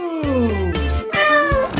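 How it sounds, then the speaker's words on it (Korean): A cat meows several times in close, loud succession, each call drawn out and tonal, with short pauses between and no talking over it. "난 우리가 고양이와 함께 할 거라고 확신해."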